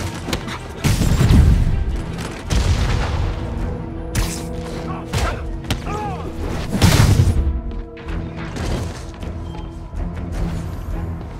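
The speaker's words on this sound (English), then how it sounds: "Rockets!" Rocket explosions in Marvel's Spider-Man video game, two heavy booming blasts with crashing debris about six seconds apart, surrounded by rumbling impacts and game effects.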